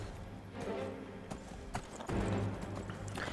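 Horse hooves in Skyrim clop steadily at a walking pace over a rough outdoor ambience, close and continuous with a few sharper knocks.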